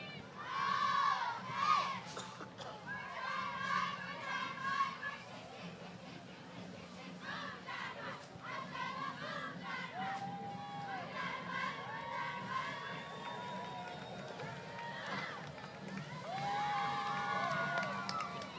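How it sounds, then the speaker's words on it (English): A junior cheer squad at the Seattle Syttende Mai parade, young voices chanting and shouting cheers in rhythmic bursts, moderately distant amid crowd noise. "Oh, we get a cheer."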